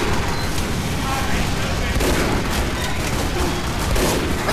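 Dense gunfire in Team Fortress 2, a sustained barrage of overlapping shots and blasts, loud and constant throughout with players talking over it.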